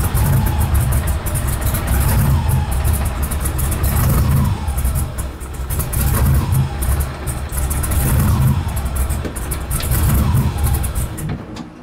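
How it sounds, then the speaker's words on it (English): A Chevy drag car engine runs loudly with the line lock engaged, its steady rumble rising and sagging in several surges as it strains and nearly stalls, heard close with no speech. "it's stalling the car, so I'm guessing it's not gonna roll"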